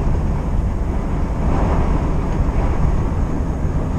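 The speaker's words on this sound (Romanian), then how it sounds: "Bate vântul foarte tare" Strong wind buffeting the outside of a truck cab on the road, a steady, loud, low roar with gusty swells and no voices.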